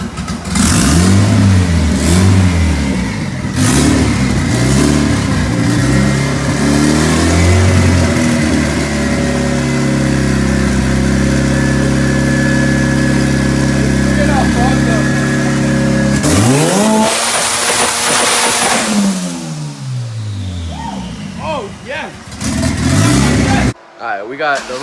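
A turbocharged all-wheel-drive Honda on a dyno revs hard and loud, with rising and falling sweeps, a long held high-rpm pull, then a sharp climb and drop, while voices shout over it.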